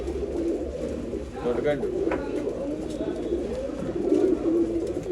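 Pigeons for sale in Bangalore, including a large breeding male, coo repeatedly in low, soft, throaty phrases nearby, with someone talking over them throughout.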